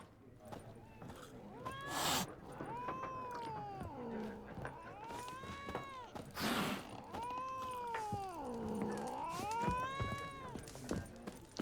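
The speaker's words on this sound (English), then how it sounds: "Kitty's very mad." An angry cat in The Witcher 3 yowls and growls in long rising and falling caterwauls, several drawn-out cries close and fairly loud with short breaks between them.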